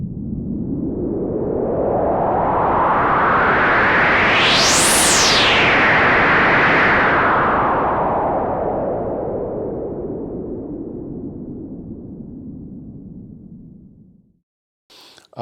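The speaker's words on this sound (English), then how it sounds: "it's white noise. White noise. White noise only." White noise from the noise generator of a Moog Messenger analog synthesizer, heard as a loud steady hiss that sweeps up into a bright whistling peak and back down, then fades out near the end.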